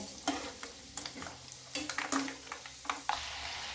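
Dry rattling and scraping as peanuts roast and are stirred in a pan over a medium flame, with scattered crackles and taps, close and moderately quiet.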